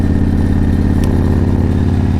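Motorcycle riding on an open road, the engine droning steadily and loudly with constant rumble and wind at close range throughout.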